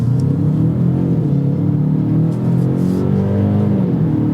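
A 2024 Genesis G70 with the 2.5T engine pulling hard in Sport Plus mode, a loud, close, continuous engine drone rising in pitch as it accelerates, heard from the cabin with no voices.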